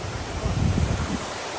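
Waves wash onto a Jamaican shore in a steady rolling surge, mixed with gusty wind rumble against the microphone, with no talking.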